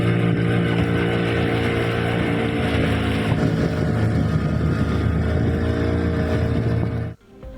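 Tourist motorboat cruising through the Pichavaram mangrove forest: a loud, steady engine drone with wind and water noise close by, cutting off abruptly near the end.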